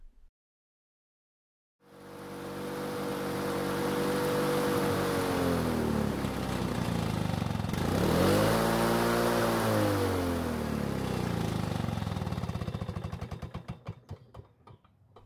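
An old Lawn Boy two-cycle lawn mower engine starts after a short silence and drones steadily and close, dipping in pitch once, then sputters and cuts out as it runs out of fuel.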